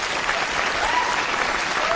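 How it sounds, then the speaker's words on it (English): Studio audience at a live paranormal TV show breaks into loud, steady applause, a dense wash of clapping held for the full two seconds. "Give them a round of applause."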